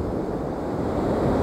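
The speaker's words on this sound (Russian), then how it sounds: "Волны у нас куда заходят." Rough sea surf rolling ashore at Anapa in a fierce gale, steady rushing wave noise blended with heavy wind rumble on the microphone, loud and unbroken.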